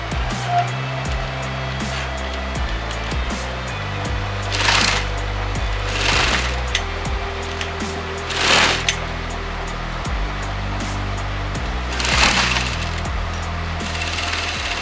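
Sewing machine stitching blouse fabric, with steady mechanical runs broken by short pauses and a few sharp louder bursts, heard close in a quiet room.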